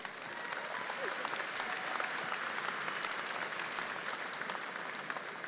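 Sustained applause from a commencement audience at Angelo State University honoring history graduates, an even, continuous wash of many hands clapping at a distance with no break.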